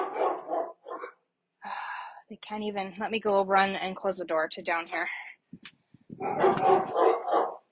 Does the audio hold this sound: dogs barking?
yes